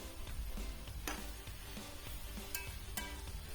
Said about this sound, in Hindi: चम्मच चलाएंगे ताकि हमारा मसाला जो है अच्छी तरह से मेल्ट हो जाए